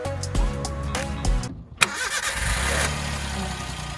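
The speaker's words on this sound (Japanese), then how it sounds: "エンジンをかけてみる。" A small kei car engine cranks with a quick chugging starter, catches with a sharp burst, then settles into a steady, fairly quiet idle nearby.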